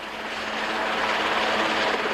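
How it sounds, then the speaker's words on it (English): Helicopters flying during a coastal search and rescue effort, a steady broadband rotor and engine roar that holds evenly loud throughout with no voices. "By sundown, 8 choppers were involved in the rescue efforts."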